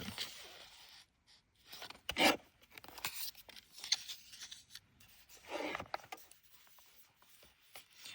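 Book pages are trimmed with scissors for gluing into a journal, with several quiet, close snipping and crisp paper-cutting sounds in short bursts separated by near silence.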